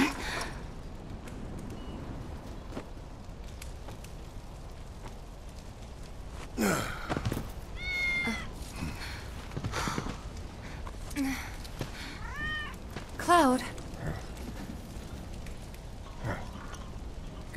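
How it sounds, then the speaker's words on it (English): A cat in Final Fantasy 7 Remake gives a few short, faint meows in the second half, set against quiet ambient game noise and soft breathy sounds. "Good kitty."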